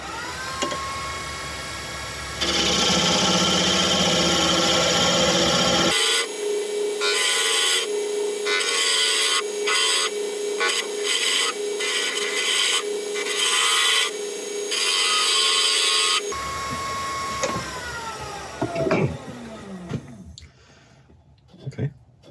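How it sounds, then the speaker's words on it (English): A thin parting tool cuts into African walnut spinning on a wood lathe, making a steady, close scraping rasp over the motor's hum, with rhythmic interruptions as the tool works, then the lathe winds down. "I'm going to go in with my my thinnest parting tool and see how we get on with this."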